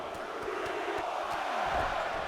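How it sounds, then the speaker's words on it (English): Loud, rowdy arena crowd in a wrestling video game, a sustained roar of cheering and shouting with scattered sharp bursts, fairly close and full. "Crowd is loud. The crowd is rowdy."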